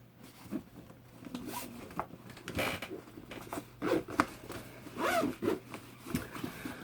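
The zipper on a DJI Mavic Air Fly More Combo carry case is pulled in several short, scratchy runs with uneven pauses, close and fairly quiet.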